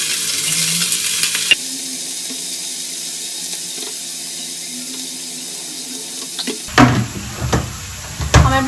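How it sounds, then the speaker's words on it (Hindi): Running kitchen tap water gives way to a quiet stretch, then bottle gourd hits hot oil for tempering with a sudden loud sizzle and stirring scrapes in a home kitchen. "अब ये छौंक लेती हूँ मैं लौकी।"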